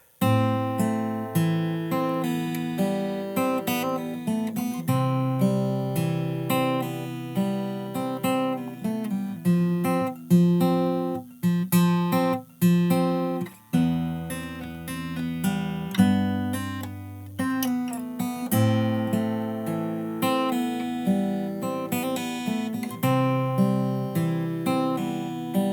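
Fingerstyle acoustic guitar plays a song's chorus twice, bass notes and plucked melody ringing clearly and alone at an even pace.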